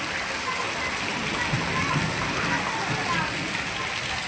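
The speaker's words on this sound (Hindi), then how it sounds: "अब बारिश हो रही है" Rain falls outdoors in a steady, even hiss that fills the whole stretch without letup, with a faint voice in the background.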